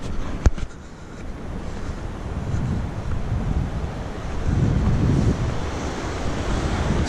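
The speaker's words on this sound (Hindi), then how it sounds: "मुझे यहाँ पे पानी की आवाज़ सुनाई दे रही है" Cold, clean flowing water rushes steadily in a mountain stream near Manali, a continuous broadband wash with gusts of wind noise and a brief knock near the start.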